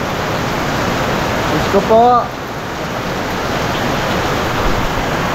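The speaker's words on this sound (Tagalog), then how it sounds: "Ang lakas ng ulan." Heavy rain pours down in a dense, continuous hiss that stays steady throughout, with a short exclamation from a voice partway through.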